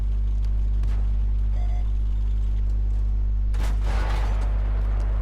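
A tank gun firing in World of Tanks, a single loud blast with a short crackling tail over the constant low engine drone of the tank, with faint clicks before it.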